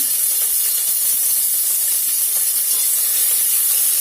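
Thinly sliced green chilies frying in hot oil with garlic give a steady, loud, close sizzle and hiss, with no voices throughout.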